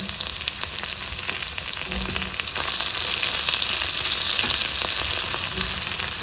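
Onions frying in a pan produce a dense, continuous sizzle that grows louder partway through, with faint scraping from stirring now and then.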